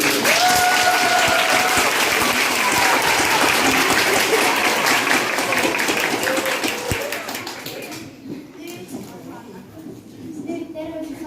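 A whole hall audience claps hard to cast a vote at a Christmas party, giving loud, dense, sustained applause with cheering mixed in. It fades to scattered claps near the end.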